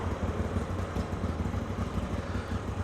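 A Moto Guzzi V85TT motorcycle engine, fitted with a decat exhaust kit, idles steadily nearby while warming up, with a low, even chugging rumble and faint mechanical clatter, no voices.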